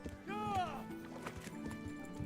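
A horse in the Kingdom Come: Deliverance video game, heard as a whinny followed by soft hoof clip-clops, quiet, with low voices alongside.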